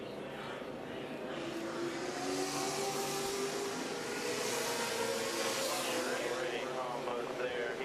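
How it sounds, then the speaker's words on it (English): NASCAR stock cars at the start of the 2007 UAW-Ford 500 race, a dense roar of engines climbing under full throttle, steady and loud throughout with a crowd-like wash behind it. "As the pace car gets set to pull away, the drivers are going to go full throttle."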